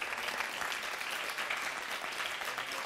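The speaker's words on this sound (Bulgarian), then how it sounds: "ти като чуеш кебабчета и почваш да ръкопляскаш" Dense studio applause fills the room steadily and evenly, a broad wash of many hands clapping at once, loud and continuous with no voices rising above it.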